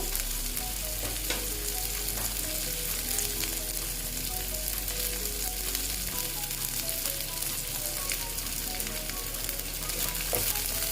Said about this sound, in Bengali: দিয়ে একটু ভালো মতো ভেজে নিচ্ছি